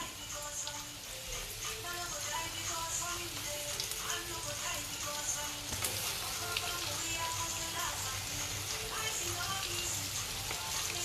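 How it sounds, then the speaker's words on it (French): Chicken pieces frying in hot oil for KFC-style chicken, a steady dense sizzle and crackle throughout, close and even, with faint background music. "Donc j'ai mis à frire."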